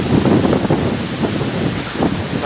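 Strong gusty wind roars across a hillside of cherry trees on Ryogaizan, Japan, on a stormy spring day, a loud, steady rushing with swelling gusts and rustling dry leaves, no voices.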